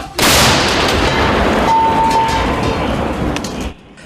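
A single loud, booming artillery shot bursts out at once, then a long rumbling roar with a brief high whine in the middle, fading after a few seconds.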